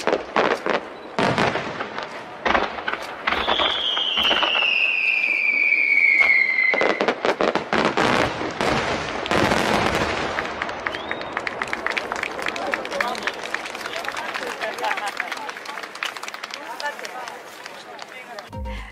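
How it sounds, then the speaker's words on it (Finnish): A small fireworks display marks the start of 2024, with a rising whistling rocket followed by a string of sharp crackling bangs and pops, while people talk in the background. "Sen ja alkavan vuoden 2024 kunniaksi otetaan pieni ilotulitus."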